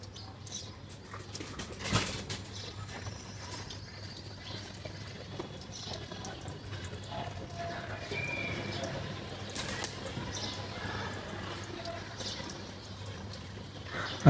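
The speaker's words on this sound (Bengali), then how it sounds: "এখন চলেন আমরা এদের একটু গোসলের পানি দেই।" Water poured into a bath for pigeons in a loft, a soft continuous splash and trickle under steady low hum, with faint bird flutters and coos nearby.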